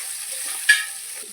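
Onion and garlic frying in a pan make a steady, close sizzle, broken once by a brief stirring scrape partway through.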